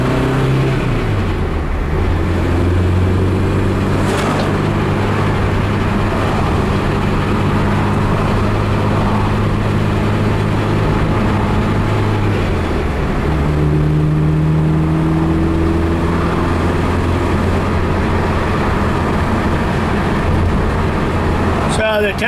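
A 1972 BMW 2002 on a test drive, its engine droning steadily up close from inside the cabin, with pitch rising and falling through shifts and acceleration, and a voice talking over it at moments.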